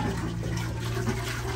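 Water runs and splashes over capulines (chokecherries) being washed by hand, a continuous close rushing flow like a tap filling a bowl, steady with no talk.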